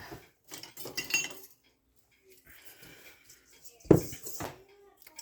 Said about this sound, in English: And then I'm going to get this kind of whisked together.